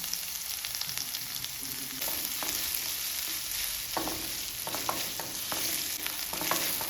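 Ginger and garlic fry in a pan with onion for a capsicum gravy, a steady soft sizzle broken by several sharp stirring scrapes and clinks, close by, with no talk.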